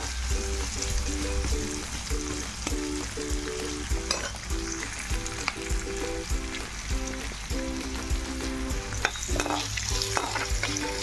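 Onion and tempering spices sizzle and crackle steadily in hot oil for a Telugu home-style rasam, with a near, continuous frying hiss punctuated by stirring scrapes and no voices.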